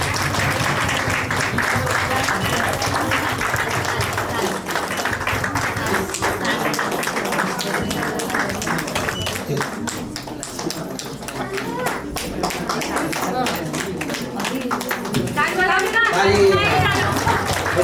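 Wedding guests applaud together in a dense, sustained burst of clapping that keeps going throughout, mixed with chatter, children's voices and occasional talk nearby.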